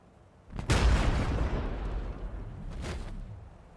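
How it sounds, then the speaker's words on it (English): A cannon fires in a Warhammer 40,000 tank battle between Astra Militarum and Necrons: one loud, deep boom that rolls out and fades, then a second, weaker blast about two seconds later. "Firing cannon."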